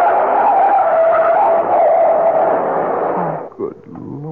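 A truck's tires skid in a long, loud screech lasting several seconds, ending in a brief thud and scrape.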